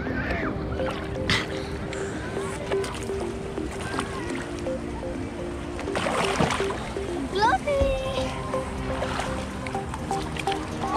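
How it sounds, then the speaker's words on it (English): A paddle board being paddled on the sea off Boracay, with soft splashes and lapping water under a steady outdoor background, and people talking nearby throughout. "paddling."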